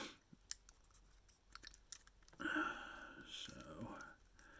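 Knife blade cutting into a wine cork to shape the mouth of a topwater popper fly body, heard as a run of close, faint scraping and crackly cuts that grow denser partway through, with soft rustles around them.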